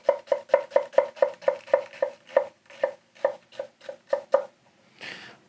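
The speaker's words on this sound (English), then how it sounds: "you definitely notice when you're going through the onion, went through that like no problem" A Tsunehisa santoku knife chops through an onion on a board in a run of about sixteen crisp, evenly spaced knife strikes that slow slightly toward the end, with no talking.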